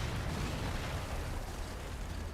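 Explosions boom in a tank battle in the video game Final Assault, a dense, loud rumbling wash of blasts with no clear gaps.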